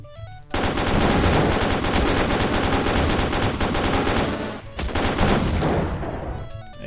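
A sentry turret in Wolfenstein 3D unleashes a loud, continuous burst of machine-gun fire lasting several seconds, with a brief break and a second burst before it tapers off.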